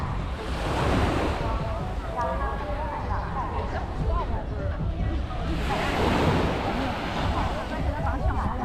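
Ocean surf rolls and washes onto Dadonghai beach in Sanya, Hainan Island, a loud, continuous roar that swells into two broad surges, with wind buffeting the microphone and a voice talking over it.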